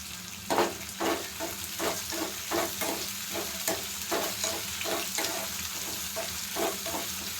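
Dry red and green chillies frying in oil for a farm-chicken curry, a steady sizzle broken by repeated scraping stirs at a regular pace, close and moderately loud with no talking.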